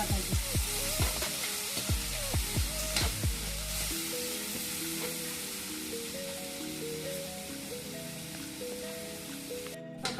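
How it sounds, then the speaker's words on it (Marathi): Onion frying in a pan over a wood-fired stove: a steady close sizzle with scraping stir strokes early on, settling into continuous crackle under background tones. "कांदा थोडा परतून घेतलाय"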